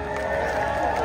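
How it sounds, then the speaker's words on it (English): Crowd cheering and applauding for a Broadway musical singer at a Juneteenth celebration, a steady roar of whoops and clapping that fills the whole moment with no break. "round of applause for Miss Afra Hines"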